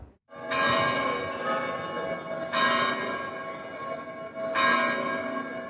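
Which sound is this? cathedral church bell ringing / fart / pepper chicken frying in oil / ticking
cathedral church bell ringing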